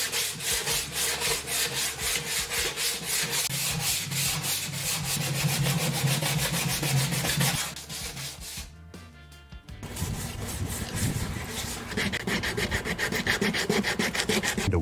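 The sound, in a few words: sanding a motorcycle fuel tank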